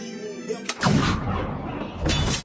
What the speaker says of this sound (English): The moment they do, their radio explodes, killing them instantly.